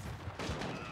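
Gunfire in a Call of Duty: Modern Warfare match, a dense burst of shots running steadily through a short moment, loud and busy with no pauses.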